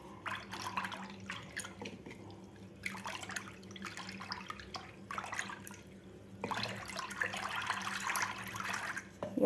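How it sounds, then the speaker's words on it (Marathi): Chilled buttermilk mixed with water being churned with a wooden ravi, sloshing bursts of liquid agitation in several irregular spells separated by short pauses, close and fairly quiet. "आता व्यवस्थित आपल्याला रवीने याला घुसळून घ्यायचं आहे."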